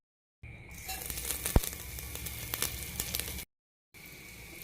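Crushed cumin, black pepper, curry leaves and ginger sizzle and crackle in hot oil and ghee for millet pongal, a steady close fry with a sharp pop partway through, then a brief silence before the sizzle resumes.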